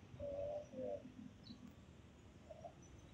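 A bird by a river near a bridge in Malabon, Cavite gives a few soft, short calls at a distance over steady outdoor background noise, two close together and one more a moment later.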